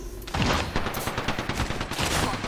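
Rapid automatic gunfire in Apex Legends, a fast burst of sharp cracks starting abruptly, close and loud, with a short pause before another volley.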